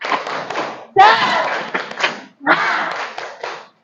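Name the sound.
students doing rhythmic clap chant tepuk semangat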